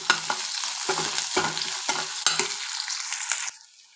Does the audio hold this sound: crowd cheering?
no